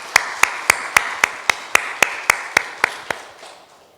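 About a dozen sharp claps land at a steady, even rhythm, fading slightly toward the end with nothing following, a small church congregation clapping in unison rather than a crowd.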